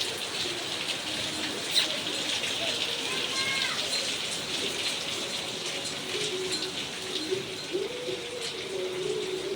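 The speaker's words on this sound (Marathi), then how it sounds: "आमच्या इकडं ना पाऊस पण येतोय पाऊस येतोय" Steady patter of rain falling, with a few bird calls and a voice talking in the background.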